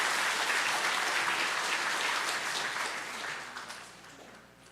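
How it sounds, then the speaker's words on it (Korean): A congregation at an Easter Sunday church service applauds in welcome. Full, even clapping starts strong, then gradually thins and fades toward the end, with no talking over it. "우리 박수로 환영하시도록 하겠습니다."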